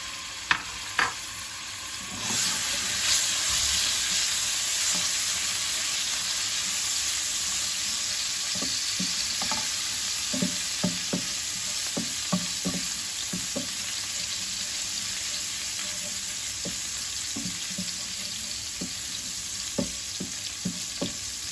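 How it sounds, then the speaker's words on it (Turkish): Steady crackling sizzle of garlic frying in hot oil in a pan, with scattered scraping and stirring clicks over the constant hiss. "Tavama yağ ekledim. Şimdi sarımsak ekleyelim."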